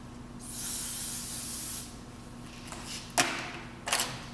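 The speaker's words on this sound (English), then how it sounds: "So when I'm spraying this, I'm going to start at her hairline" A steady hiss of an aerosol spray lasts over a second, followed by two short, sharper spray bursts with faint handling thumps.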